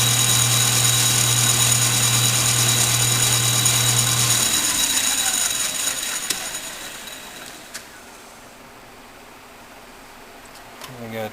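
Emco Maximat Super 11 metal lathe spinning at high speed, a steady high whine and hum that winds down and fades over several seconds to near quiet, close by.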